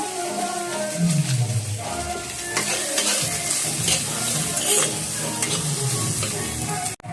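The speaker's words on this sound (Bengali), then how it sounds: "এবার চিকেন আর চিংড়ি মাছগুলো ভেজে নিচ্ছি" Chicken and prawns frying in a pan for a Bengali home meal, a loud, steady sizzle with stirring scrapes throughout, no talking.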